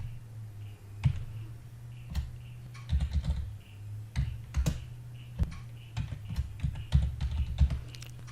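Keys clack on a computer keyboard in uneven bursts of close, crisp taps with short pauses between runs, over a steady low hum.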